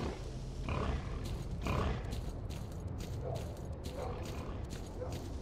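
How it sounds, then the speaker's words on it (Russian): A wild boar in the game S.T.A.L.K.E.R. Clear Sky gives low, rough grunts in repeated bursts, mid-distance and fairly loud, with sharp clicks and clatter between them. "Кабан."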